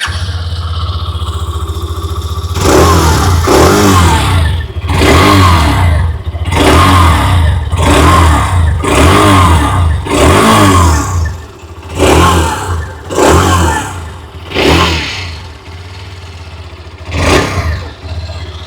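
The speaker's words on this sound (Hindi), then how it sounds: "अभी सुन लेते हैं हीरो एक्सट्रीम 125R की एग्जॉस्ट नोट।" Revving exhaust of a 2026 Hero Xtreme 125R, a series of sharp, loud throttle blips in quick succession from close by, each dropping back to a steady idle, with no talking.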